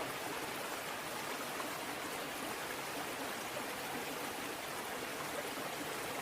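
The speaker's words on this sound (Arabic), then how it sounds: "شوف المنظر، شوف الشلال يخبل" Waterfall in northern Iraq near Erbil, a constant soft rushing wash of falling water, steady and even throughout, heard at some distance with no voices.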